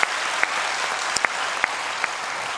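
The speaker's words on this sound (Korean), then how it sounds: "우리 하나님께 감사와 영광의 박수를 올려드리는 저와 여러분 되시면 좋겠습니다" A church congregation applauds loudly and steadily, a thick wash of many hands with a few sharper individual claps standing out near the front.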